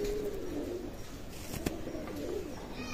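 Nilakhamagar pigeons coo softly nearby, a few low rolling coos repeating over a quiet background with no talking.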